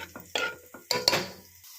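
Fenugreek leaf lentil curry being stirred in a pot, giving several close, distinct scraping strokes with short pauses between, alone with no voices.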